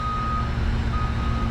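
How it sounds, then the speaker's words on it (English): Reversing beeps from a big truck at a construction site during a civic center mall renovation: a steady high electronic tone sounds continuously over loud, constant engine rumble, with no talk. "Big trucks making noise."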